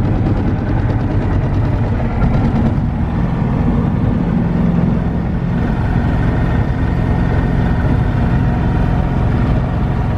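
A Rotax 912 ULS light airplane engine runs loud and close, a steady low droning hum with a slight shift in tone partway through, filling the whole stretch without speech.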